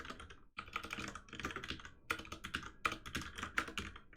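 Rapid, continuous clicking of keys typed on a computer keyboard, close and crisp, in quick irregular bursts with only a short pause near the start.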